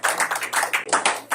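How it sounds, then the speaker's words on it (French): A church congregation at a Sunday service claps in quick, uneven bursts of sharp hand claps, close and fairly loud over a short stretch. "nous acclamons pour la parole du Seigneur"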